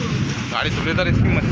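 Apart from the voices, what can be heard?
thunderstorm with thunder, wind and rain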